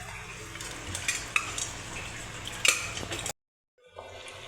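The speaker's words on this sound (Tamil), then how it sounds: "நல்லா கொதிச்சிருச்சுங்க இப்போ நான் மட்டனை வந்து சேர்த்துக்கிறேன்" Clattering and stirring as mutton is added to a boiling curry pot, with a few sharp metallic knocks and a sizzling simmer, then a brief silence before the bubbling resumes.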